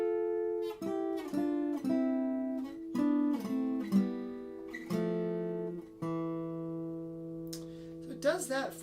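An electric-sounding guitar plays the introduction of a song, a close, clean sequence of sustained notes and chords moving through changes and ending on a single held note, with a brief rattle at the end.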